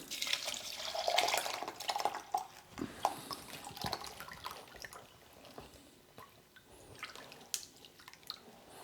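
A 50-50 mix of isopropyl alcohol and water pours and splashes into a container, a soft gurgling stream with a few drips and clinks, close by and fairly quiet.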